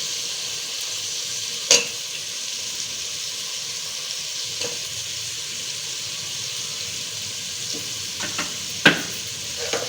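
Peas fry in a pan for veg tahari, a gentle continuous sizzle heard close, with a few sharp clinks and scrapes as the mixture is stirred.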